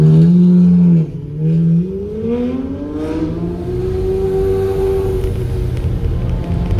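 A Hyundai 1.8 GDI car accelerates hard during a street chase, its engine note climbing steadily and loudly in rising pitch after a brief dip, close up with no talking.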